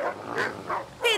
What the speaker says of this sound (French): Et des chiens.